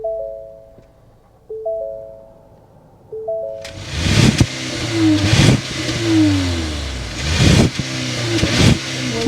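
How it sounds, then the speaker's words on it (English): Soft electronic chimes ring a few times before a 2024 Ford Edge SEL turbocharged engine starts with a loud burst, then revs repeatedly in rising, roaring pulls through the exhaust. "start up this turbocharge so you could hear that exhaust note"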